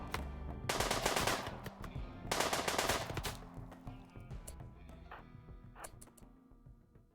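Bursts of auto pistol fire in the RimWorld video game, two loud rapid rattling volleys near the start followed by sparser, fainter shots tapering off, with no talking.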